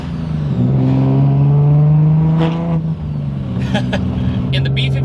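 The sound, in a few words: Toyota Supra B58 engine with big single turbo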